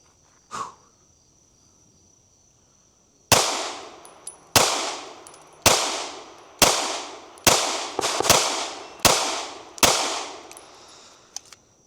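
Gunshots from a Tisas PX-9 Duty Comp 9mm pistol at an outdoor shooting range, nine sharp loud reports fired at a steady, slightly uneven pace, each ringing out with a short decaying echo, following one faint pop at the start.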